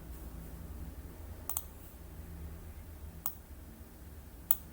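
Three sharp, isolated clicks from a computer mouse, spaced a second or more apart, close and fairly quiet over a low background hum during work on a Microsoft Access form.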